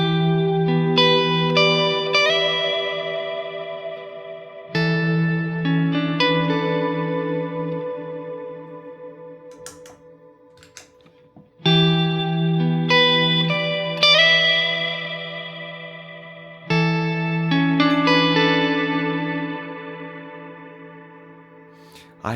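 Electric guitar run through a Neunaber Wet Stereo Reverb pedal, playing sustained chords in several phrases, each strike blooming into a long, smooth reverb tail that fades before the next entry; loud and close, with no voices.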